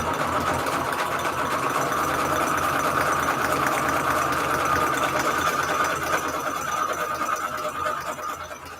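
A sewing machine stitches a patchwork cover for a Valentine's junk journal, running in a steady, fast mechanical whir close by that eases off near the end.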